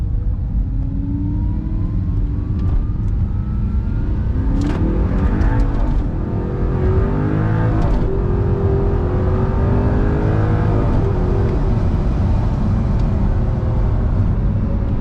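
An all-wheel-drive supercar engine revving and accelerating hard, a loud continuous close roar with rising pitch sweeps as it pulls through the gears, no talking.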